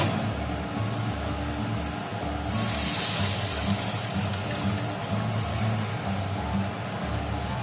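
Water poured into a pan of rice and fried fish heads while cooking Bengali muri ghonto, a steady splashing pour that swells briefly in the middle over a low kitchen hum.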